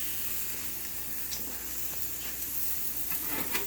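Homemade breakfast sausage frying in a pan gives a steady, close hiss and sizzle throughout, with occasional small pops and crackles and no talking.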